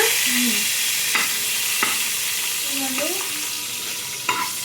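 Curry leaves and green chillies fry in hot oil with a loud, steady sizzle, broken by a few sharp stirring clicks and scrapes; no one speaks.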